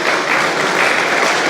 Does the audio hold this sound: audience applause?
yes